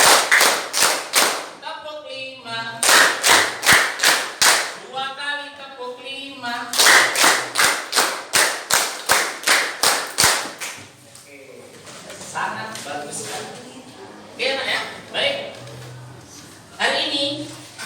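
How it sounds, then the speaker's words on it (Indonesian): Eighth-grade students in a classroom clap together in counted rhythmic patterns, loud sharp bursts of one, two, three and four claps in quick sequence, alternating with an adult voice calling the counts and brief spoken pauses. "Tepuk 1, tepuk 2, tepuk 3, tepuk 4"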